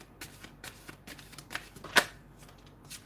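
Cards riffle and flick in quick bursts of crisp papery rustling, with one sharper snap near the middle. No voices.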